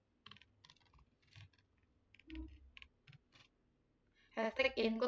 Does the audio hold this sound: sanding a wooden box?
no